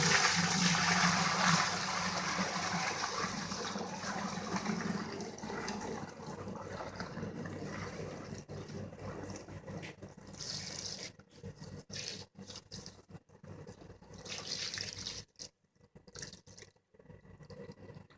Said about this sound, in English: This is where I dump the beer into the fermenter, basically through the screen.